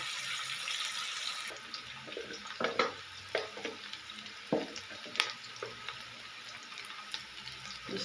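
Masala for kachnar chicken frying in a pan gives a steady soft sizzle, broken by several louder scrapes and stirring clatters, heard close up with no talking.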